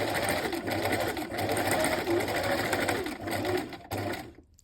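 A sewing machine runs a steady whirring stitch along a seam in shorts fabric, close and continuous, stopping abruptly at the end.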